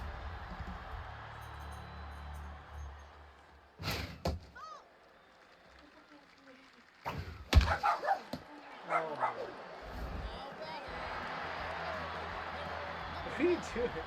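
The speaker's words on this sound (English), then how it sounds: "my dog started acting up just as I predicted" A pet dog in a home breaks into a few sharp barks and thin whimpering cries, mixed in with a person talking nearby, against a quiet room background between the outbursts.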